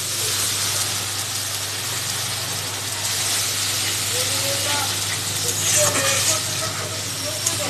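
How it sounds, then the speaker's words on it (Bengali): Spice paste for a pomfret curry sizzles steadily in a hot pan after a little water is added, giving a continuous loud hiss of steam and frying throughout. "আর এই স্টেজে আমি সামান্য পরিমাণে জল দিয়ে দেবো।"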